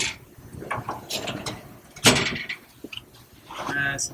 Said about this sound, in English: This is the pull-out kitchen